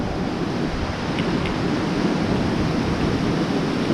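River water rushes loudly beneath a bridge in a gorge, a constant broadband roar heard close with no talk.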